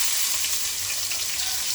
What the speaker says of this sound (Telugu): ఫస్ట్ చెక్క, లవంగం, ఈ ఆకు వేసి ఫ్రై చేసుకుందాం